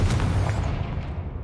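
A Confringo spell blast in Hogwarts Legacy, one loud, dense booming explosion with a heavy low rumble that fades out over about a second and a half.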